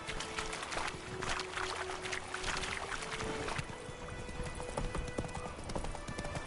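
Horse hooves clip-clop at a steady trot in the video game The Witcher 3, with a continuous busy outdoor ambience behind them. A tonal hum runs through the first half, and a short voice is heard.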